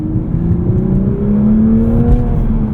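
A 2024 Toyota GR Supra 45th Anniversary Edition with manual gearbox hums steadily from close by, engine in sport mode, its pitch rising slowly as it accelerates, with a muted, smooth exhaust tone and no talking.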